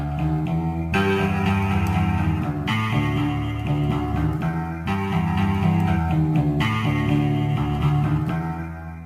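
A Street Fighter 'you win' voice sample pitched into a reverb-soaked, amp-brightened instrument plays sustained chords in a looping pattern, dense and loud with no talking.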